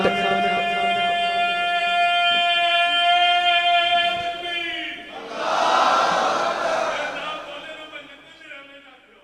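A crowd at a devotional mehfil gathering roars back in unison in answer to a chanted religious call, a loud swelling shout of many voices following a sustained sung or chanted voice.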